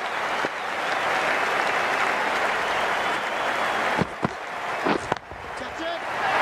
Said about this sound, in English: It's going to be hard for the bowler to focus with the crowd this excited.